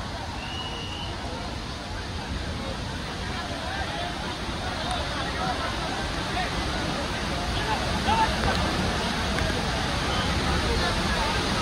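Devkund waterfall in full July flow, with a large Sunday crowd of visitors around it, produces a constant broadband rush of falling water that holds steady and swells slightly later, with a soft murmur of voices blended in.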